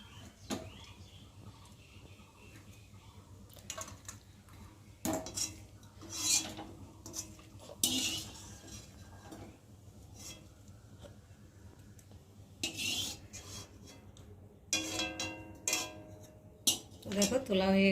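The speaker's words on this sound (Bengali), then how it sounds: "সেটা এবার আমি ছেঁকে ছেঁকে তুলে নেব।" Boiled pointed gourd is scooped and strained out of a pot with metal utensils, giving intermittent clinks, scrapes and knocks against the cookware, separated by quieter pauses, close by.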